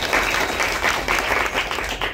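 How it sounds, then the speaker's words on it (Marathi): Steady, dense clapping from an audience at a thank-you event at a music school, continuous and fairly even throughout with no voices heard over it. "सगळ्यांनी एकदा टाळ्या वाजून आशीर्वाद द्यावा"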